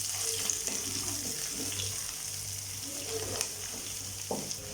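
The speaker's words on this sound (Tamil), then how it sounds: "இதெல்லாம் சேர்த்து நல்லா வதக்கிக்கலாம்" Sliced onion and curry leaves sizzle steadily in a pan, a continuous close frying hiss with occasional soft stirring scrapes and no talk.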